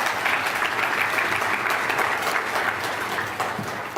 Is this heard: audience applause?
yes